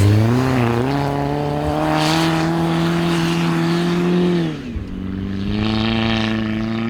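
Rally cars on a snowy winter rally stage loop, their engines droning loud and close with sustained high revving and a brief dip as one eases off before pulling hard again.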